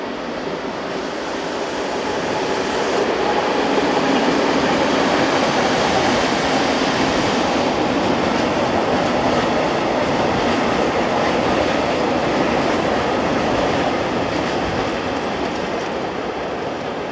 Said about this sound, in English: locomotive number 741734 heads east with loaded tanks